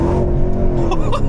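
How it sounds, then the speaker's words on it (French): A Techart-tuned Porsche Cayenne Coupé Turbo engine roars loud and close with a steady deep drone, while sharp exhaust pops and crackles break out near the end. "mais vous entendez ça, je sais pas si vous vous rendez compte, vous, sur la vidéo, mais les retours d'échappement sont stratosphériques"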